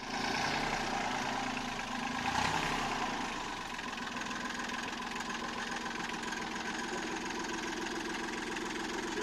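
A Lviv-made tractor engine idles steadily nearby, a continuous rumbling drone with a slight swell early on, then an even, unchanging chug throughout.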